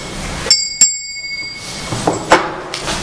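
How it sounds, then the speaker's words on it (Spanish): A mindfulness bell is struck twice in quick succession, then again a little later, each ring giving a bright, clear metallic tone that lingers briefly over a quiet room. "Siguiendo el sonido de la campana, regreso a la isla de la plena conciencia"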